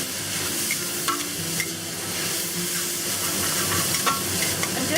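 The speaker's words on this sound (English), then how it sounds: "And just stir fry this for like another 30 seconds" Shredded pork is stir-fried in a pan with dark soy sauce for a pressed bean curd and chives dish, giving a steady close sizzle with scraping stirs and light clinks throughout.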